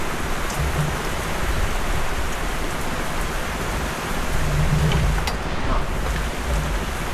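Steady rain falls on surfaces at a harvest site, a dense, even hiss with soft patters close by and no voices.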